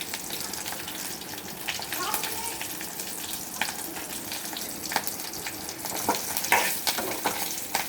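Crushed garlic and a pinch of turmeric fry in hot tempering oil for a South Indian buttermilk dish, a steady close sizzle with crackling bursts that grow louder near the end.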